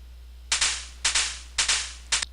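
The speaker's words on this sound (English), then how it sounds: "I'm sure there's a gunshot." A gunshot sound effect loaded in Game Maker 8 plays four times, each a sharp loud crack with a quick decaying tail, spaced roughly half a second apart with nothing else heard.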